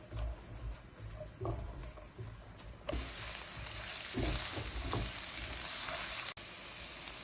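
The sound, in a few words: chopped onion frying in pan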